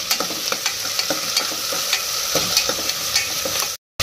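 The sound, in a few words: frying and stirring ginger garlic paste in pan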